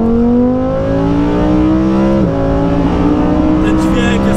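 Lamborghini Huracan Performante engine revving hard on a ring road, a loud close rising howl that climbs through the gears with a brief shift dip midway, while people talk in the cabin.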